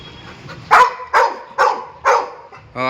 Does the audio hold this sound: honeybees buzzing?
no